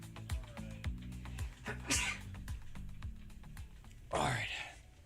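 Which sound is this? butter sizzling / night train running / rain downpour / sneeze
sneeze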